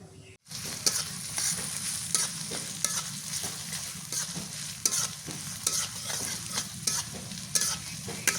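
Chopped onions frying in mustard oil in a pan, a dense close sizzle punctuated by repeated crisp spatula stirs and scrapes after a brief silent start, with no voices.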